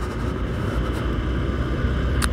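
A Honda SP 125 motorcycle cruises smoothly with a steady, close engine drone and wind rumble that holds an even level throughout, with no voices.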